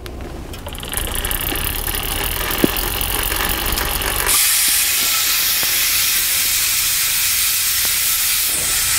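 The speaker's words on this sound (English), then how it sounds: "I don't think there's any oil, any lube in the ratcheting system, so it does make noise" A steady mechanical ratcheting hiss from the unlubricated freehub of an Enve 29er wheel with a Kappius hub, freewheeling on a carbon bike, loud and close, growing brighter and denser partway through, with no talking.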